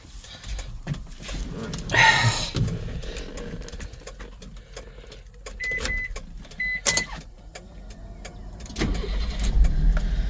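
A 1999 Mitsubishi MiniCab 4x4 engine catches quickly after a short crank, then settles into a steady idle, close and moderately loud.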